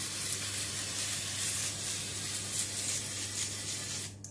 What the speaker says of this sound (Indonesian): Jadi ini minyak makan nih, karena disemprotkan nih jadi berbusa-busa ya.